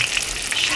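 Steady crackling sizzle of bacon-wrapped jalapeño poppers frying in hot oil, close and continuous with bright hissing bursts.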